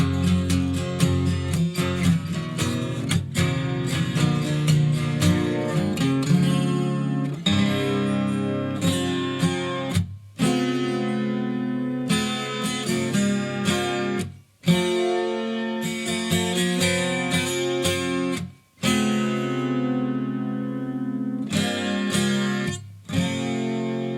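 Electric guitar plays the bridge riff of a song in full ringing chords at steady loudness, with a few brief breaks between phrases and no talking.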